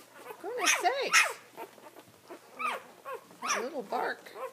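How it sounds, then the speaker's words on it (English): Several high, yappy barks from a six-day-old puppy in quick bursts, some rising into whiny yelps, close by with brief pauses between. "That little bark."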